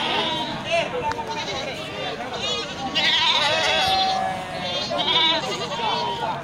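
Goats bleat repeatedly at a goat stall in a busy livestock market, their wavering calls overlapping with steady background chatter from people nearby.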